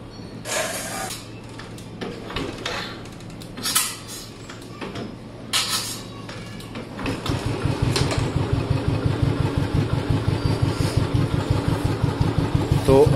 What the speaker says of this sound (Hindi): इंजन को, स्विच ऑन करते हैं।